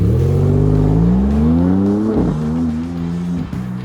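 Maserati MC20 V6 engine revving close up, a loud steady growl that climbs in pitch, dips briefly, then settles into a sustained drone with a short blip near the end, no voices.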